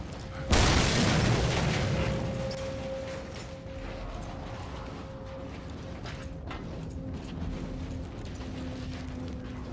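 A single heavy explosion in the video game Mad Max booms at the start, then a long rumbling decay under a steady low drone, with a faint mechanical clatter later.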